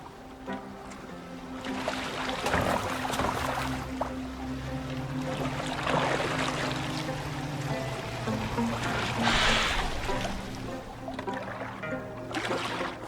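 A boat moving through water in Assassin's Creed Valhalla, with steady sloshing and trickling water around the hull, swelling in occasional splashes over a continuous low background across the whole stretch.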